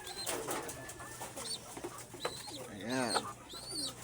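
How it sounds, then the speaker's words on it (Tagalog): Pigeon cooing close by, a few soft throaty coos with a louder rolling call near the end, over steady background hum and some rustling. "May piyak yung ating kalapate."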